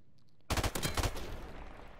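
Gunfire in a video game arrives as a sudden close burst of rapid automatic shots. It trails off into a ringing, noisy decay with no talking.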